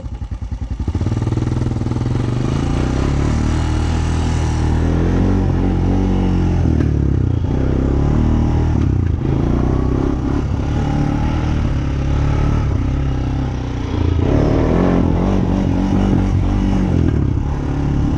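A Honda Recon ATV engine runs close and loud at a steady idle, a rough, throbbing low chug with a faint mechanical clatter and slight wavering in pitch throughout.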